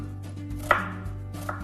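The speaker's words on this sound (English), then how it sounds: "You just slice down, but don't quite cut through the root." A knife slices down through a vegetable on a cutting board while preparing an alkalizing green soup, giving a single crisp chop against the board and a fainter second cut, over a steady low hum.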